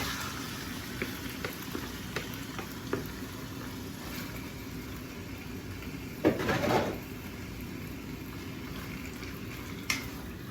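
Meat for pollo guisado sizzles and cooks in a pot, a faint continuous crackle with a brief louder burst of stirring or sizzle midway and scattered small pops.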